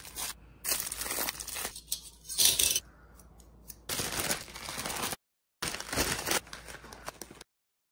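Foil or plastic wrap is pulled from a dispenser and cut, giving close crinkly tearing rustles in uneven bursts, separated by brief silent gaps.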